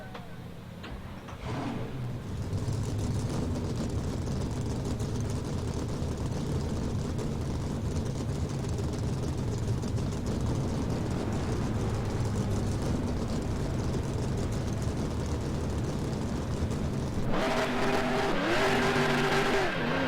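Stock cars roar in the NASCAR Racing 2003 game at Talladega, a dense pack of engines droning loud and steady for a long stretch, with a sharp shift near the end as a nearby car's note swells and changes pitch.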